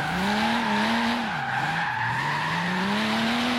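Nissan Skyline GTR R34 on rally suspension drifting in Forza Horizon 3, a steady, loud engine drone with sweeping pitch and continuous tire squeal held throughout, no talking.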